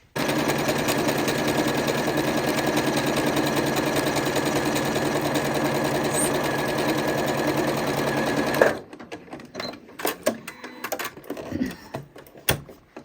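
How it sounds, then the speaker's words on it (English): A Janome Horizon Memory Craft 8200 QC sewing machine stitching steadily at a fast, even clatter for several seconds, then stopping abruptly, leaving scattered small handling clicks and taps. "now I'm ready to start sewing"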